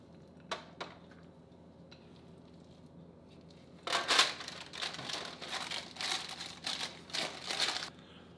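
Granola mixture being scraped and packed into a parchment-lined loaf pan, crinkling paper and crunchy pressing sounds in uneven bursts, close and fairly quiet, after a few faint taps.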